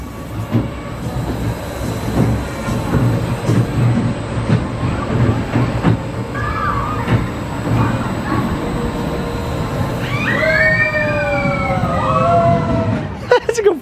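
Steel roller coaster at Hansa-Park, a circus-themed ride built to look like a wooden coaster: a continuous rumbling rattle of cars on track, with shrieks and whistle-like tones rising toward the end.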